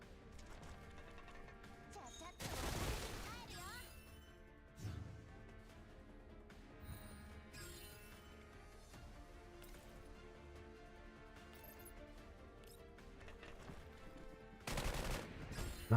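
Gunfire in the Girls Frontline 2: Exilium video game: a few sharp, loud bursts and crashes stand out over a busy layer of game music and effects, spaced irregularly across the scene.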